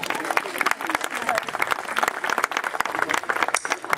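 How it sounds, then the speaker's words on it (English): An audience applauding at a Nepal Day event at Farmleigh in Phoenix Park, Dublin: steady, dense clapping from a crowd that fills the whole clip at even loudness, with some voices mixed in. "a big round of applause"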